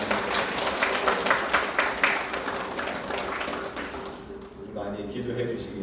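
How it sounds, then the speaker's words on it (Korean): A church congregation claps during a Sunday service to honour a 90-year-old elder. A dense patter of many hands runs for about four seconds, then thins out into quieter room sound. "경례 박수 한번 하겠습니다."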